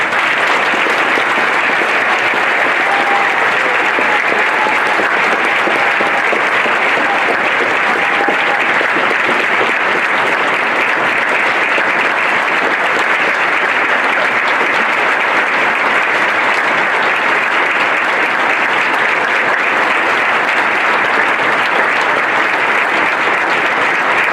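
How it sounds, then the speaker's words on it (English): Sustained, loud applause from a large audience at a police academy graduation ceremony, an even wash of clapping that continues steadily throughout with no talk over it. "please, just one more round of applause for our graduates"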